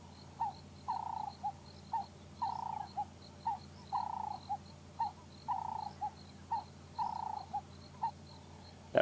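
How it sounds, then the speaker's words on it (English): Cape turtle doves call repeatedly in the African bush at sunset, rhythmic two-part cooing phrases recurring every second or so, moderately distant and soft over faint insect hum, with no talking. "If I hear that call on a documentary or something, and just one of those beautiful sounds of the bush. Cape turtle doves."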